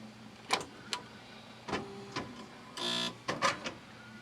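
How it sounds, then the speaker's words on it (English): A Panasonic KX-W1525 daisy-wheel word processor printer powers on with a few sharp mechanical clicks and knocks, then a brief buzzing whir of its carriage motor, followed by more close clicks, heard alone against a low background hum. "Well, the printer did something."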